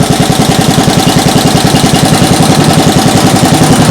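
A small engine runs at full throttle, a loud, close, rapid pulsing buzz that holds steady throughout.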